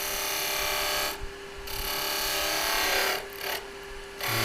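A skew chisel cuts wood on a spinning lathe, a steady close rasping scrape broken by brief pauses as the tool lifts off the workpiece.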